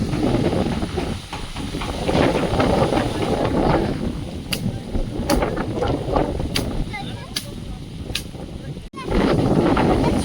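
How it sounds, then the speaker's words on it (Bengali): Strong stormy wind in a garden, roaring and gusting in broad surges close to the microphone, with a brief drop near the end and voices talking over it. "ঝড় হচ্ছে, হাওয়া হচ্ছে না ঝড় হচ্ছে?"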